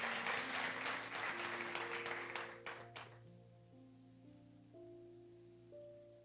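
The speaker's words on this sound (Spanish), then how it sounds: "dale un aplauso al Señor" A church congregation breaks into full, steady applause for about three seconds, then it fades out as sustained organ or keyboard chords carry on alone.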